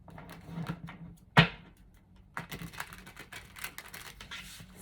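A deck of cards is shuffled for a tarot reading, with soft riffling and rustling, one sharp loud snap of cards, then quieter repeated flicks and brushing, close and alone.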